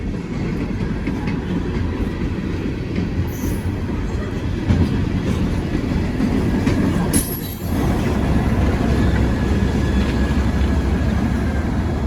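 An old Southern Railroad switcher locomotive pulls a train up a hill at the rear of a consist, giving a steady heavy rumble with rolling wheel noise and faint squeals, loud and close throughout.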